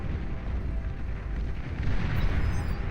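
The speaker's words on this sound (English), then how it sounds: "Destroyer here firing out into the distance as well" A destroyer in the real-time strategy game Beyond All Reason fires artillery into the distance, heard as a steady, muffled low rumble of cannon booms that swells slightly louder near the end.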